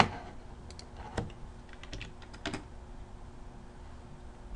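Keys clatter on a computer keyboard in a few quick bursts, light and close, with clusters of sharp taps separated by short pauses and no voices.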